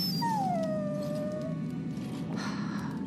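A dog whimpers in a video game, one drawn-out falling whine over a steady low background hum, close and fairly loud, with no talking.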